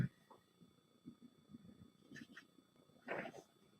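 A kitten cries out a few times in faint, distant meows, with quiet background noise between the calls.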